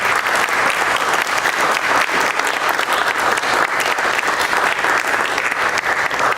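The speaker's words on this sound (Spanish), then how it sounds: "pido una aplauso" A crowd at a cultural centre talk on watercolour breaks into sustained applause, a loud, dense and even wash of many hands clapping from start to finish.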